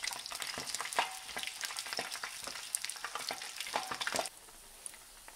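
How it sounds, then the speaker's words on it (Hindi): Chicken pieces fry in a pan in a final batch, with a busy crackling sizzle and stirring clatter, close and fairly quiet, easing off near the end. "अब हम अपना जो लास्ट बैच है वो फ्राई कर रहे हैं"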